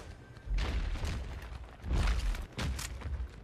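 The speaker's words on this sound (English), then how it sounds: "Oh, it sounds like earthbending." Earthbending ability effect in Fortnite, heard as a run of loud, rumbling booms and thuds in three surging bursts, with crackling, debris-like noise over a deep low end.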